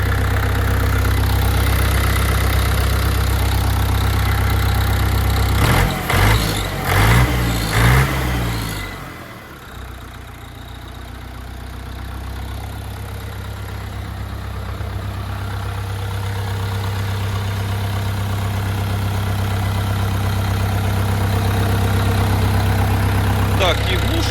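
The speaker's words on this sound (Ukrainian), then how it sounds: "Ось так працює двигун." A Scout 404C mini tractor engine idles with a steady low chug, briefly interrupted by a few knocks and a dip before settling back into a constant drone.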